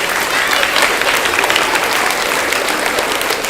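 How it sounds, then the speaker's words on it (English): An audience in a library claps continuously, dense steady applause at close range with no pauses. "If you could give them a round of applause."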